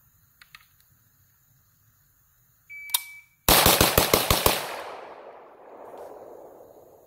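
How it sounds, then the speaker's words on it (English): Rapid burst of about seven sharp AK-74 rifle shots fired in quick succession, loud and close, each crack ringing into a decaying echo, preceded by a short electronic timer beep. "See how many shots I can get in 2 seconds."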